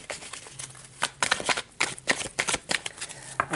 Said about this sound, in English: I feel like I need to get this really good shuffle.